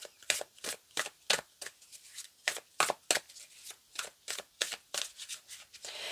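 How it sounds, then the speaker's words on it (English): Tarot cards shuffled by hand in a quiet room, a steady run of crisp riffling bursts and soft slaps repeating about twice a second, close and fairly loud with no talking. "So I'm going to bring out a few tarot cards here"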